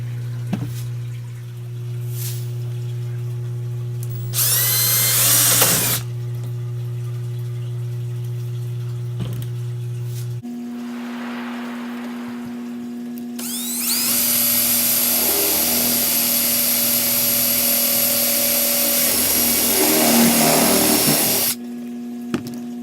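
A power drill whines as it bores through thin wood clamped to a backing piece for an aquarium water level switch bracket, with steady motor tones and two louder drilling bursts, the second longer, close and without talk.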